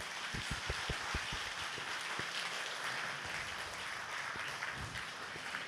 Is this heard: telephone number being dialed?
no